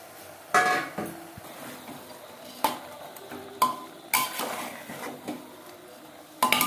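The rest of the marinade spices go into a pot of restaurant-style mutton curry with onions and tomatoes, bringing a close series of sharp metallic clinks and scrapes of a spoon against the pot, spaced irregularly over quieter stirring.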